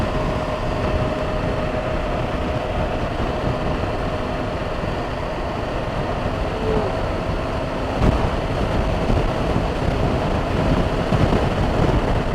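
Steady low rumbling wind buffeting a microphone, constant and broadband throughout, with a brief gust near the end.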